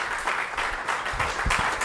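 A church congregation bursts into brief, hearty applause, dense clapping from a crowd in a worship hall, fairly close and lively.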